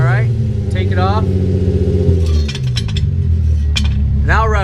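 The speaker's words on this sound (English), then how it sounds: "this is with a fat cherry bomb. Go ahead and rev it." Mk4 Volkswagen VR6 engine with a fat cherry bomb muffler revs loudly and up close, its deep droning exhaust note rising and falling steadily, while people talk over it.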